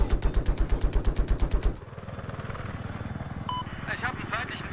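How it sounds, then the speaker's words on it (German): Enemy helicopter rotor chopping loudly and rhythmically in Battlefield 4 gameplay, then cutting into a dense clatter of gunfire and engine noise, with a voice speaking over it. "Ich hab einen feindlichen Heli in Sicht."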